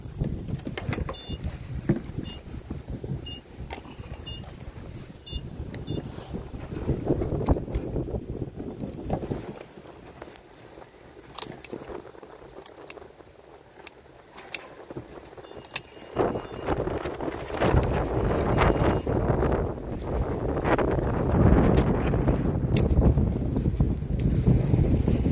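Wind buffets an outdoor microphone in winter, a rough steady roar that rises and dips in gusts over about twenty-five seconds and grows strongest near the end, with no talk.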